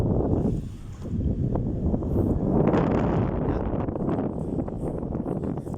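Strong wind gusts buffet the microphone outdoors by water while fishing for tilapia, a rough, rumbling blustery roar that surges and eases unevenly throughout, with no voices.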